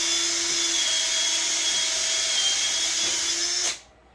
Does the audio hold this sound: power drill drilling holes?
yes